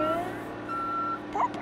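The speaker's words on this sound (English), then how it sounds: "I hear the sound of a moving truck." A moving truck's reversing beeps sound in an animated neighborhood: thin steady electronic tones, moderately loud, over a faint background hum, with a brief chirp near the end.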